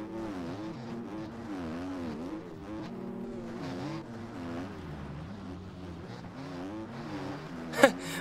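A two-stroke dirt bike engine in the MX Bikes game on an enduro course drones steadily throughout, its pitch rising and falling as the rider works the throttle, with a brief sharp spike near the end.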